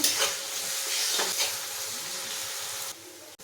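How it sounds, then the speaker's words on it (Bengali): Cashews and raisins frying in a pan for fried rice, a loud close sizzle with stirring scrapes, steady hiss that drops off near the end. "কাজু কিশমিশটাও ভেজে নেব"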